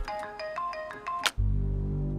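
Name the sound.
telephone ringing with an incoming call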